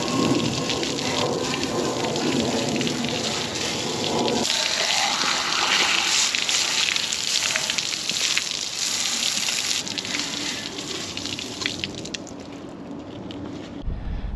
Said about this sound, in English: I'm gonna start hosing this off